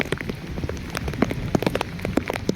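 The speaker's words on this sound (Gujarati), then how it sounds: "પાલતાણા બાજુ હરુડે વરસાદ." Heavy rain pouring down near Palitana, a steady dense hiss of drops striking surfaces with close splashes scattered throughout, no voices.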